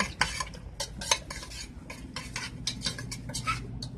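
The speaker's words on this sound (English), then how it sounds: "we're gonna add a little bit of fried garlic. I'm just gonna stir that around a little bit." Fried garlic stirred into Thai noodle soup (kuay jap) in a pot, heard as a run of close, irregular metal scrapes and clinks of a utensil against the pot, with no talking.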